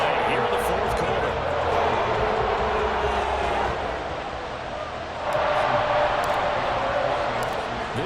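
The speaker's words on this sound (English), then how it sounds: "This crowd alive again." Stadium crowd in Madden NFL 24 roaring steadily in the fourth quarter after a tying score, a dense, continuous wash of cheering that swells again partway through, with a commentator talking over it.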